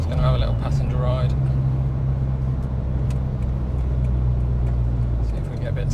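A Mitsubishi Evo 5 drives along a road, heard from inside as a steady low engine drone and tyre roar, with someone talking over it near the start.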